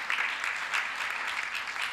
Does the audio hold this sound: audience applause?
yes